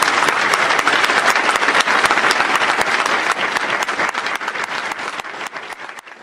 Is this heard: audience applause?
yes